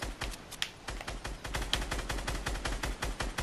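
Rapid sniper and automatic gunfire in a battle royale video game, a dense run of sharp, loud shots with a few louder cracks, no talk.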